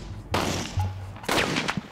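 A high-velocity gun fires into a binary explosive catalyst during a MythBusters test, giving sharp, loud blasts about a second apart, each with a rough decaying tail, and no explosion follows.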